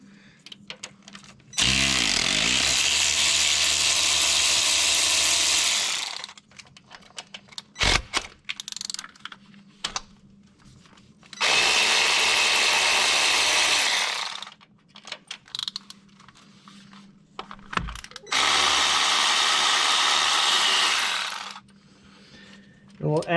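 A power tool removes cylinder head bolts on a 2015 Hemi 5.7 engine in three long, loud, whining bursts of several seconds each, separated by quieter metallic clinks and handling noises.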